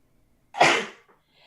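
One sharp, close sneeze bursts out after a moment of near silence, then quickly fades into a soft breath.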